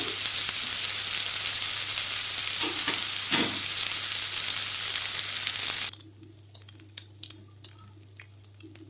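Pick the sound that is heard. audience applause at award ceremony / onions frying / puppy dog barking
onions frying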